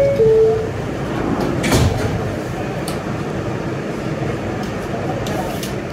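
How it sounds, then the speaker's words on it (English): Doors on a new Staten Island Railway R211S subway car close with a short chime and a whooshing slide, then a thud, set against a steady hum of the train's ventilation. "Stand clear of the closing doors"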